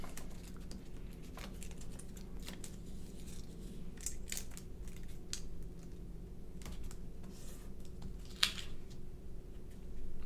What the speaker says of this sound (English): Snippity snip.